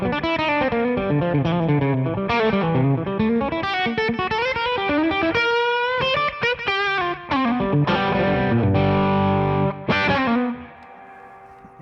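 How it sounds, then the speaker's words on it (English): Electric guitar through a TC Flashback set to a single slapback repeat with a Tchula, playing a fast, driven lead line up close that ends on sustained, ringing chords with no talking. "I've got the slap again from the TC Flashback. Just one repeat."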